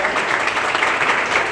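Audience applause at a Chhatrapati Shivaji Maharaj speech event, a dense, steady wash of many hands clapping throughout, fairly loud and close.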